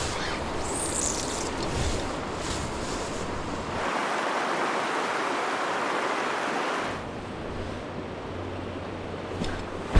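A British Columbia river rushes steadily through the whole stretch, broadband water noise holding strong, with the low rumble thinning briefly midway before the full roar returns.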